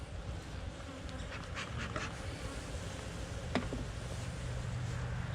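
Honey bees hum and buzz steadily around their hives during an autumn hive inspection, a dense continuous drone close by, with a few brief clicks and taps.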